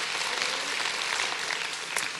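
Congregation at a church service claps in praise, a dense, even wash of many hands applauding together at steady loudness throughout.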